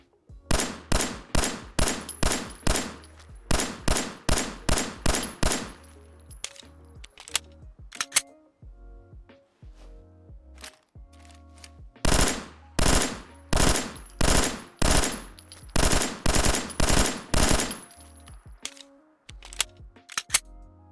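Beretta pistol in burst-fire mode in a Fallout 4 weapon mod, firing rapid sharp shots in repeated short bursts over about twenty seconds, loud and close, with brief pauses and faint mechanical clicks, no talking.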